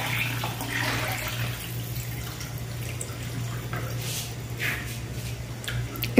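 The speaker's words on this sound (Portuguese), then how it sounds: "Vou colocar água fria mesmo, não vou colocar água quente não" Cold water runs from a tap into a pot of rice, a steady hissing pour with faint splashes, heard alone at close range over a low background hum.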